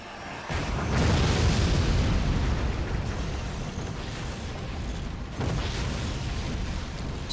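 Rocket explosions pound away in the strategy game Forts, a dense, loud, continuous barrage of booms and rumbling blasts that barely lets up, with a fresh surge of detonations near the end.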